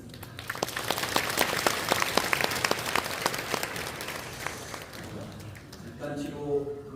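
An audience at a church service honoring retiring elders breaks into applause, crisp individual claps building into a lively patter that gradually fades, followed by a voice speaking.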